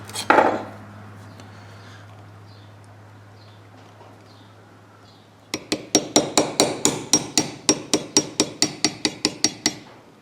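A hammer strikes a punch on the small anvil of a vise while a MIG welder drive roll is modified. After one early clang and a low hum, a quick series of about twenty sharp metallic taps rings out, close and even.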